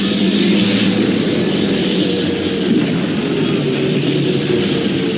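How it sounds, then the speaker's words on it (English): A propeller airplane engine drones in flight 12,000 feet up while ferrying skydivers to a jump site, a loud, steady roar heard close up with no pauses. "pilots in a pair of airplanes ferry 9 skydivers to the jump site"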